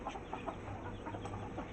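Chickens and a rooster feeding on grain give faint, scattered clucks at close range, low and irregular over a soft, steady background hum.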